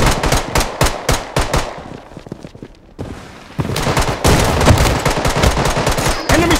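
KAG-6 machine gun fire rings out during a squad battle in a video game as loud, rapid bursts of automatic shots. There is a brief lull before the sustained firing resumes.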